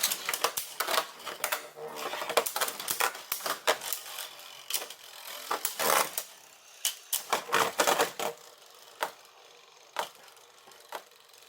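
Plastic Beyblade spinning tops clash in a plastic arena, giving a run of sharp, irregular clacks and rattling knocks with brief scraping whirs between them, close and fairly loud, with no talking.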